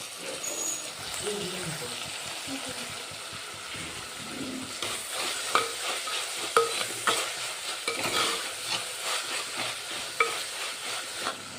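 A fish curry base sautés in a pan with a pinch of salt, sizzling and hissing steadily while a spoon stirs and scrapes in quick, irregular strokes, with a voice talking over it early on.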